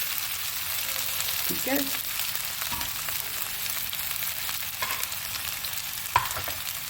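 Boiled potatoes and onions fry in a pan for samosa filling, a soft steady sizzle with occasional scraping and stirring clatter; a voice speaks briefly.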